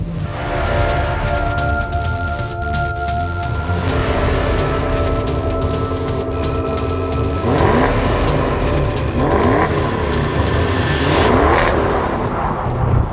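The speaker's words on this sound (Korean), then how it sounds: "현재는 코르사 모드에서 주행을 하고 있습니다" A 2019 Maserati Levante Trofeo drives in Corsa mode, its engine humming steadily and then revving in repeated rising bursts, loud and close throughout with no talking.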